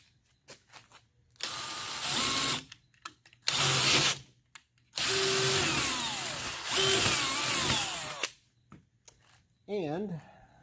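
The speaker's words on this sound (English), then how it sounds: "So now I'll stick the auger in, and then we'll use this to go all the way through." A power drill turns an auger through a homemade jet ski sand anchor in several separate bursts of close, revving whine with pitch sweeps as the motor loads, divided by short pauses and clicks.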